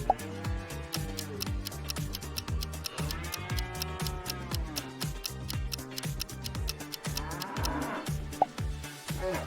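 Cattle moo in a cartoon farm scene where a bear has crept too close to the cows, the lowing rising over a busy musical backing with steady ticking beats throughout.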